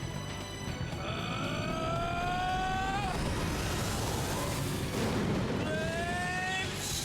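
A flame shot attack in The Legend of Dragoon bursts out as a loud, rumbling blast with rising synthetic tones, then a second flare of roaring noise. The sound carries on steadily for several seconds and has no talk over it.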